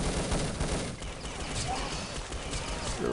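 Grenade blasts and gunfire crackle through a team shooter match, a dense, continuous barrage of pops and bursts with commentator voices underneath.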